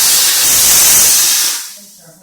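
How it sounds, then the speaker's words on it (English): A jeweler's steam cleaner blasting pickle residue off a ring during retipping, a loud, close, continuous hiss of steam that cuts off abruptly toward the end, leaving faint room sound. "And then I'm going to steam it off, so you're going to hear a loud noise."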